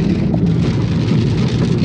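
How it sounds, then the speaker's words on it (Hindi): Steady rain falling outdoors, a dense, even hiss of drops lasting throughout with a low rumble beneath, fairly loud and close, with no voices. "फाइनली देखिए बारिश, मैंने बोला था ना बारिश होगी।"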